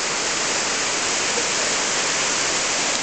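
Sea waves wash onto a beach in a steady, dense rush of surf, loud and close with no distinct breaks, and no voices.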